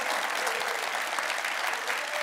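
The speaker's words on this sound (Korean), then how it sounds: "다시 한번 뜨거운 박수 부탁드립니다" A crowd of citizens at a town-hall event with the mayor of Incheon claps steadily and densely for a couple of seconds, an even, full wash of applause with a voice faintly audible beneath.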